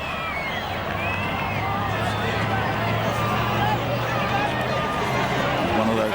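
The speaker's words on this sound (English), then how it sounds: "Crowd and commentary box went up as one." A rugby league crowd roars in a steady, dense wash at a 2004 City versus Country match, with no individual voices standing out.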